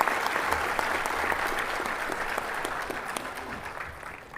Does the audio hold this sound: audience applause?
yes